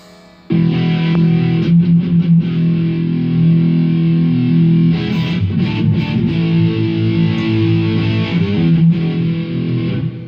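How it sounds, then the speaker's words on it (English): Harley Benton electric guitar strums steadily with a slight touch of reverb and no delay, chords sounding full and close with no one speaking. "That's with no delay. It's just a little reverb."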